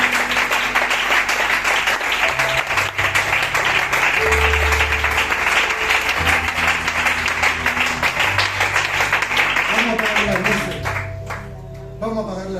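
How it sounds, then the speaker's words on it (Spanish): A congregation at a Bible study gives steady, continuous applause for about ten seconds, with a low sustained music tone underneath, tapering off slightly at the end. "Si quieres que Él se merece un aplauso, dáselo con alegría."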